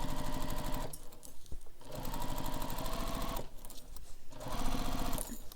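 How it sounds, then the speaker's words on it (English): An industrial sewing machine stitches the bottom edge of a backpack, a loud close rapid mechanical whirring in three long runs separated by brief pauses. "Now we're going to sew just the bottom edge together."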